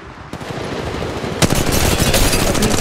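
Rapid automatic gunfire from the mobile game Apex Legends, a dense rattling burst that builds and grows louder, played close and loud with no talk.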